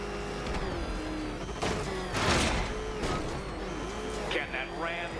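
Engine of the Batmobile revving in Batman: Arkham Knight, with loud, rising and falling roars and bursts, under a voice talking throughout.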